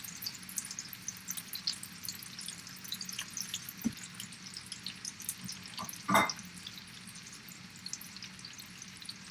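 Chicken pieces frying in oil in an oven-proof skillet, giving a soft, steady sizzle with scattered crackles and spits and one louder pop partway through, with no one talking.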